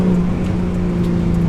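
A Ford AU Falcon fitted with a J3 performance chip revs steadily, its loud, close engine drone holding a constant pitch throughout without any voices.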